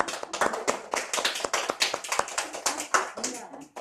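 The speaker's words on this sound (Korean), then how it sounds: "박수 한번 보내주세요." Audience clapping during a church Bible study session, a dense burst of hand claps close by that fills the moment steadily.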